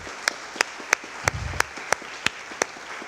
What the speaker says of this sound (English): Can we have a round of applause for Mother's Day?